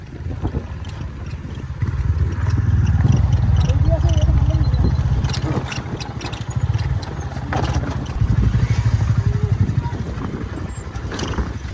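Motorcycle engine revving and labouring on a stony off-road track, loud and close with surging throttle and rattling clatter, with voices talking over it.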